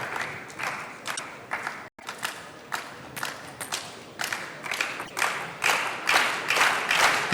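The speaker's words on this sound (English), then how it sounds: "The crowd doing their best to lift LIU Shiwen" The crowd at a table tennis final at the Pro Tour Austria Open claps in rhythmic unison, beat after beat, growing louder and denser toward the end, with a brief dropout early on.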